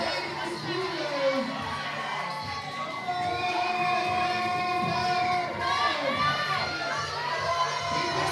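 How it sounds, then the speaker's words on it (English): A powerlifting meet crowd cheers and shouts loudly and steadily, with sustained whoops and barking-like calls from spectators rising over dense chatter in a big indoor hall. "There's some barking in the crowd for her."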